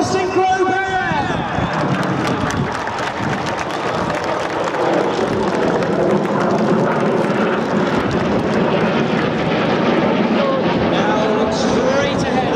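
Red Arrows synchro pair jets at the Clacton-on-Sea air show in Essex, a loud continuous roaring jet rush sweeping overhead, with an announcer's voice over loudspeakers and crowd noise underneath.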